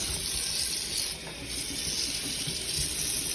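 A tap in a mobile home runs with a steady, close, hissing rush of water that barely changes and plays alone with no talking.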